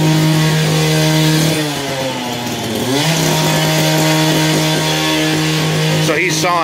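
A power saw with a cutting wheel runs loud and close at a basement construction site under an old house, its steady whine dipping briefly under load as it cuts.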